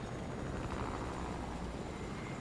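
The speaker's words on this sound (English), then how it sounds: "We're going in this helicopter after all." A helicopter in the Fortnite video game drones with a steady, close rotor chop and engine hum throughout, with no talk over it.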